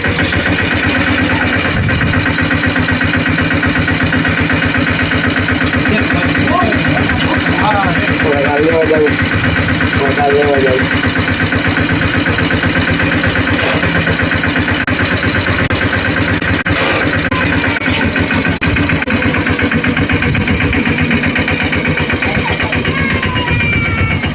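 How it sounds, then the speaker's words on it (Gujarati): A mini tractor engine idles with a steady mid-pitched chug throughout, while people talk intermittently over it. "ખીરમાં આવી ગયું છે મિની ટ્રેક્ટર મિત્રો"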